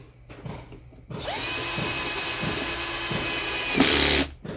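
A power drill drives two screws in a crossed, diagonal pattern during a repair job, giving a steady close-up whir that runs for about three seconds and ends in a louder final burst, with no talking.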